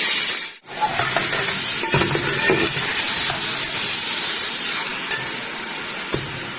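A spoon stirring dumba mutton karahi with ginger garlic paste in a hot pan: loud close sizzling with scraping strokes and clinks, a brief dip near the start, no talk.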